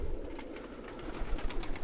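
Pigeons in a loft give low murmuring coos, soft rolling calls close by over a faint background.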